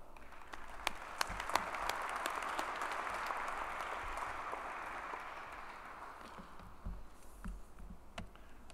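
Audience applause at a university commencement ceremony for continuing studies, steady sustained clapping from a large crowd with a few sharp close claps standing out, fading gradually toward the end.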